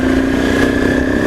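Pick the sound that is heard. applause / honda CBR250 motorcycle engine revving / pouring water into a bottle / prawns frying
honda CBR250 motorcycle engine revving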